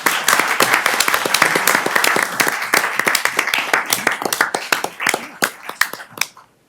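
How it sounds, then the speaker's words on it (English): Dense, loud applause fills a board meeting room, many hands clapping at once before thinning out and stopping abruptly. "let's just give them a round of applause"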